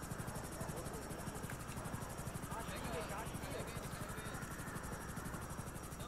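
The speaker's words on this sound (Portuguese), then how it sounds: "Eu vou pegar o helicóptero." Helicopter in a GTA roleplay video game, a steady rotor and engine drone running throughout at a constant level, with voices talking over it.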